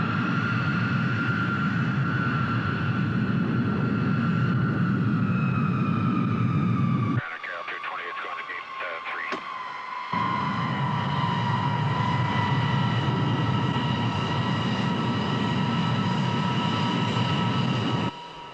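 An airliner taxiing toward the runway gives a steady, loud jet-engine whine and drone with tonal hums, briefly muffled partway through before the engine roar returns, with voices talking over it.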